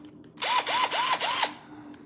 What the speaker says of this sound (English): We got the old drill out.